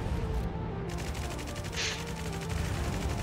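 Steady rapid gunfire during a Jailbreak live event battle against a robot Kraken, a continuous stream of shots with a brighter burst midway, under game noise.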